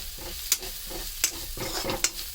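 Turmeric, coriander powder and garam masala stirred in a pan over a low flame, with three sharp scraping strokes at a steady pace over a soft background sizzle.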